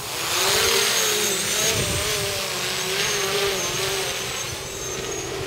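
TornadoFrames Microburst 300 V-tail drone, running a Flip 1.5 flight controller, flying nearby. Its motors make a steady, loud, high-pitched whine that shifts slightly in pitch as the throttle changes, with no talking.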